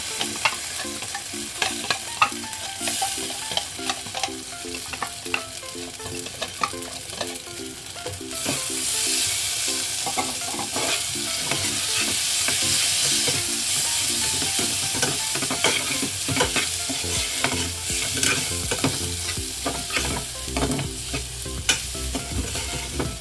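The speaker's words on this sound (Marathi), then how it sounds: "तर हे तांदूळ आता चांगले भाजून घेतले।" Ground rice roasts in ghee inside a pressure cooker, a sustained sizzling hiss broken by frequent scraping and clinking strokes as it is stirred, growing denser midway and continuing steadily for over twenty seconds without speech.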